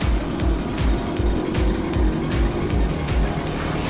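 A car driven fast on a road, its engine roaring steadily and close with rhythmic low surges and some tire noise, loud throughout with no talking.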